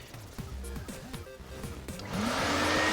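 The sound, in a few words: shop vac vacuuming out a car interior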